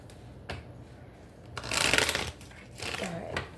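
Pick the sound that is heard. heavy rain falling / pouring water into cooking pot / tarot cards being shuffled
tarot cards being shuffled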